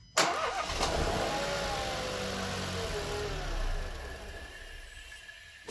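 A Renault Clio 4 with the 0.9 TCe engine cranks and fires up right away after a serpentine drive belt replacement. It settles into a steady, close idle, and the revs dip slightly partway through.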